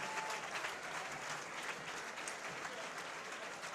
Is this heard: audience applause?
yes